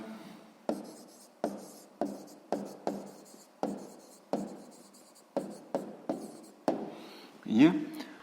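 A pen writes an answer in a notebook, a series of about a dozen short scratchy strokes at a close, even pace, with a faint rustle at the end.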